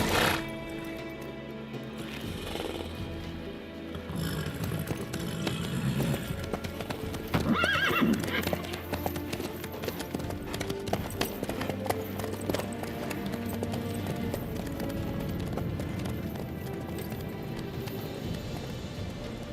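Horse hooves clip-clopping steadily with a whinny in the Witcher 3 video game, a rhythmic gait running throughout under game music and ambience.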